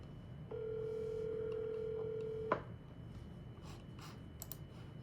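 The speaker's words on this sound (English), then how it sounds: "This one actually is ringing." A single steady ringback tone on an outgoing phone call lasts about two seconds before cutting off with a click, followed by faint line noise and small ticks; no one speaks.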